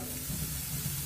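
Vegetables and spices fry in a pan with a soft, steady sizzle and hiss, faint and continuous over a brief moment with no voices.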